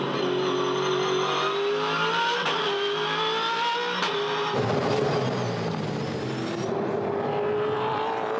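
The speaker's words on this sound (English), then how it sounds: "enjoy the sights and sounds of the Orcon Ford Performance Racing Falcon" Orcon Ford Performance Racing Falcon V8 Supercar engine revving hard around a track, loud and continuous with rising and falling pitch through gear changes, other cars' engines joining in the second half.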